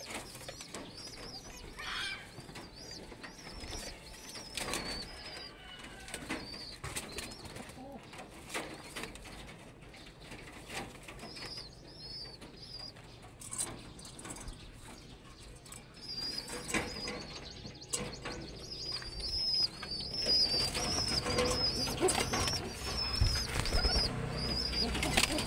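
Pet pigeons at close range, soft repeated cooing and scattered wing flaps over a busy rustling background, growing somewhat louder toward the end.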